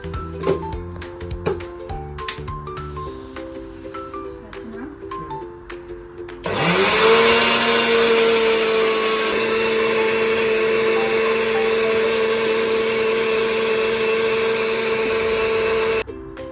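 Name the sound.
mixer grinder grinding weight loss powder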